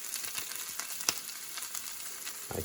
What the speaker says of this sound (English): I believe the cabbage is close enough to add into the soup